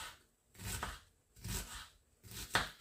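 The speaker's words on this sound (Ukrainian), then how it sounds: "Дріблесенько нарізаємо" A knife finely chops onion on a board in three close, rhythmic bursts of quick crisp cuts, each lasting about half a second, with no talking.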